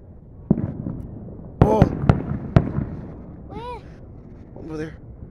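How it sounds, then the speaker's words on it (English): New Year's whistling fireworks crack with several sharp, loud bangs, followed by a couple of rising whistles shrieking upward, heard outdoors against a low background hum. "I can hear the whistling fireworks now"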